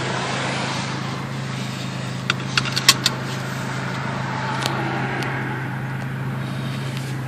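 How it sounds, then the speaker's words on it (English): A seatbelt is buckled inside a Volkswagen GTI: a short burst of sharp metallic clicks and rattles close by, over a steady low idle hum. "get my seatbelt on"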